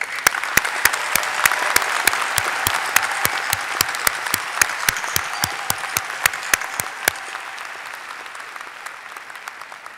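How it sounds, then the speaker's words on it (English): Sustained applause for graduates from a large audience at a university commencement ceremony, loud and steady clapping for several seconds that thins out and fades toward the end. "A round of applause for our graduates."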